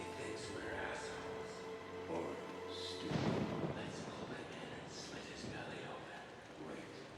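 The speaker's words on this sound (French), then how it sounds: "cette agréable pluie et ce tonnerre monstrueux" Rain hisses steadily and a heavy rumble of thunder rolls in midway through a nighttime scene in the video game Outlast, with voices talking over the storm.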